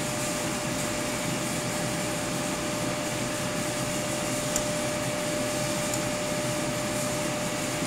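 A vacuum pump draws down the load lock chamber of a semiconductor etch tool in a cleanroom lab, giving a steady, fairly loud broadband whoosh with a faint constant whine running through the whole stretch, no voices.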